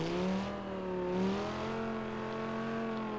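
A video-game Lamborghini engine holds a loud, high droning rev with a slight swell in pitch, steady and alone.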